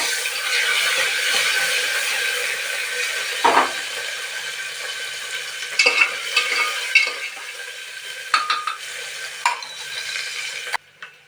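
Onion, curry leaves and tomato sizzling and frying in a pan, a steady hiss with a few scraping stirs of a spoon against the pan.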